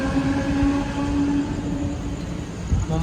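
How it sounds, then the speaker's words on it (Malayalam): A Mumbai local train runs at CSMT railway station with a loud, close, continuous rumble and metallic hum that rises and falls slightly as the carriages roll past. "ലോക്കൽ ട്രെയിൻ ഇതാ വരികയാണ്."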